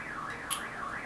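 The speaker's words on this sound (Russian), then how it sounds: "Да ёбаная сигнализация" A car alarm wails with a rising and falling electronic warble, heard briefly and clearly on its own from a car driving on a wet road.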